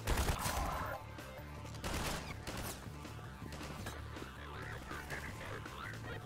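Gunfire in Garry's Mod on a Half-Life 2 custom campaign: scattered sharp shots and short bursts over a low game hum, fairly faint overall, with no talk.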